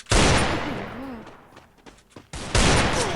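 Gunfire in the Free Fire mobile shooter: two loud bursts of shots, one at the start and another near the end, with a quieter stretch of game noise and faint sounds in between.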